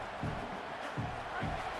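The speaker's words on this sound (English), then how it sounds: "Listen to this crowd just shaking the girders of this place, trying to help their defense." Home crowd at a football game roaring steadily in a large stadium, a dense continuous wash of cheering and shouting with swelling surges, heard close and loud throughout.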